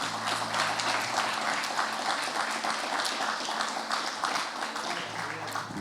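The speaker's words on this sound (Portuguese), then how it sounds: "Você pode aplaudir ao Senhor nessa hora, igreja?" A church congregation applauds together during a worship service, a steady, dense wash of clapping from many hands filling the room throughout, with faint low hum beneath.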